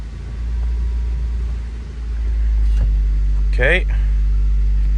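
A Mitsubishi Evo's engine runs with a steady low rumble that swells slightly partway through, while someone briefly speaks close by.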